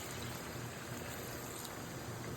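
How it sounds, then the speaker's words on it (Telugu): Water pours into a pan of mirchi ka salan as a soft, continuous rushing fill. It sounds quiet and even for a couple of seconds with no other sounds. "ఇందులో ఇప్పుడు కొద్దిగా నీళ్లు పోయాలి."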